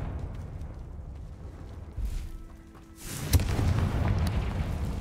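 A Confringo fire spell bursts in Hogwarts Legacy with a sharp crack, then a loud, sustained fiery rumble that stays close and fills the rest of the moment.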